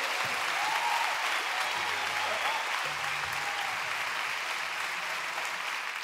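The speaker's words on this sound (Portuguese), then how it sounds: "salva de palmas para estes senhores." A concert audience applauds loudly and continuously, a dense, even wash of clapping lasting the whole stretch without pause.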